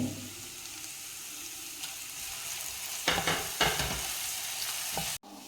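Ginger and green chillies frying in hot oil as the base for a snack masala, a soft steady sizzle with a few louder stirring scrapes midway and a sharp knock near the end, close by with no talk.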